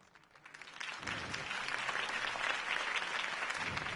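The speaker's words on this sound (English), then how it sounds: "If only Mr. Wayne, my campaign's largest backer, could have heard that applause" Steady crowd applause in the video game Batman: The Telltale Series swells in after a quiet second and continues loudly, a dense wash of many hands clapping with no talk over it.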